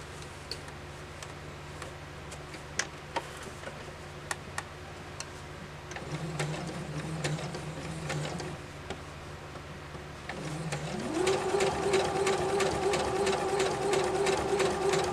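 A sewing machine stitches in the ditch on a quilt-as-you-go quilt. It starts with slow, ticking single stitches around a corner, then builds to a louder, steady whirring run near the end.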